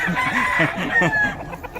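Chickens, including a mother hen, cluck and squawk close by in a busy, overlapping chorus, with a faint higher call drawn out over the top.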